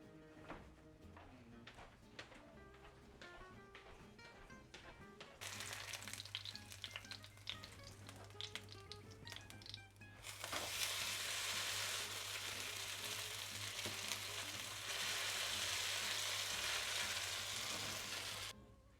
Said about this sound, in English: Leave it to fry for approximately 4 minutes on each side.